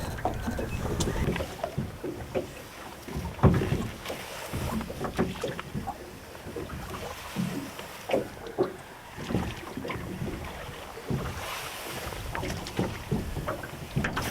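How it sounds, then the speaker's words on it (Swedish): Oars splash and knock in an uneven rhythm as a small rental boat is rowed on a lake, with wind buffeting the microphone throughout. "Sådär, nu har jag rott ut en bit"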